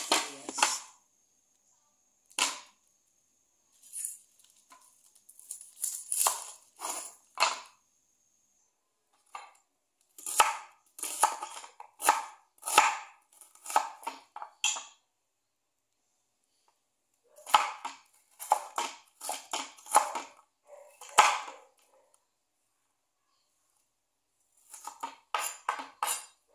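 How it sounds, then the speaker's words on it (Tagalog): A knife slicing onion on a cutting board: sharp, close taps and chops in irregular bursts separated by silent pauses, quiet overall with no background noise. "At maghihiwa tayo ng sibuyas."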